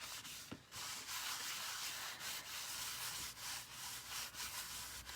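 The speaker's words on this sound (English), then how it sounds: "we're just wiping that bit of wax off" A shop towel rubbing excess wax off a painted piece, a soft, continuous scrubbing rasp in repeated strokes, faint and close with no voices.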